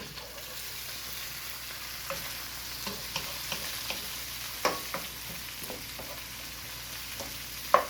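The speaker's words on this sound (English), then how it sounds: "So we'll stir this up." Zucchini with basil sizzles steadily in a frying pan while a utensil scrapes and taps against it in irregular stirring strokes, with a louder clack at the end.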